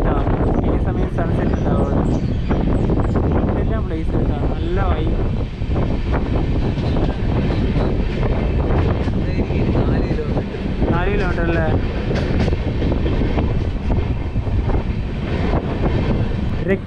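Netravati Express in sleeper class pulls out of Ratnagiri railway station, a steady loud rumble of wheels and wind roaring through the carriage without a break, with faint voices mixed in.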